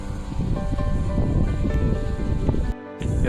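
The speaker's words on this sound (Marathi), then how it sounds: "वारा वगैरे सुटला एकदम मस्त असा." Wind gusts steadily through trees on a Konkan hillside overlooking a village orchard and creek, a continuous loud rustling roar that briefly drops away near the end, with no voices.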